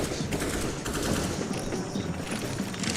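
Counter-Strike gunfire during an IEM Rio 2023 grand final match, dense continuous rapid automatic fire through smoke, loud and unbroken across the whole moment.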